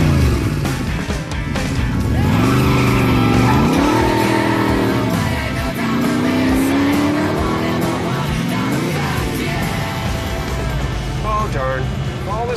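Video game car engine roaring and revving, with tires squealing and skidding in long wavering sweeps, loud and continuous, while voices talk over the driving.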